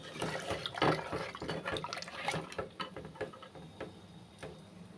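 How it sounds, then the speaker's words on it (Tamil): Water is poured into a cup of jaggery as syrup is made for a millet milk drink, a close, uneven splashing and trickling that runs for several seconds with bright drips and clatter. "ஒரு கப்பில் தண்ணி சேர்த்துக்கிறேன்."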